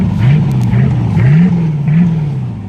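A 1999 Mariah boat's Chevy 350 V8 with through-hole exhaust revs in a few loud rising and falling swells over a deep rumbling idle, close by with no talk.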